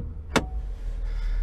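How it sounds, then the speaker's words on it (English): A 2017-2019 Ford Super Duty truck engine holds a steady high idle, a continuous low rumble with one brief sharp transient near the start. "we're going to get it up to RPM, we're going to disengage our parking brake"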